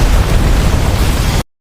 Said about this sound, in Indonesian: bom yang meledak menewaskan Abdul, Sebastian, dan beberapa polisi yang berada di dalamnya